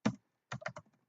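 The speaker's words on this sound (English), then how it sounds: "Now if I type print" A few quick keystrokes on a computer keyboard, a close burst of clicks followed by a short rapid cluster, crisp and isolated in silence.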